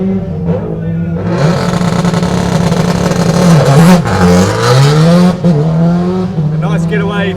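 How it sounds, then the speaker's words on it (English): A Subaru Impreza WRX rally car, the Hydrolink car, leaves the start of a super special stage at the Otago Rally 2019. Its engine revs loudly and climbs through gears close by, with a brief tire squeal and a crowd murmuring. "Ben Hunt, of course, rally champion in the Subaru Impreza WRX, the Hydrolink car, getting set to head out and chase Andrew Hawkswood."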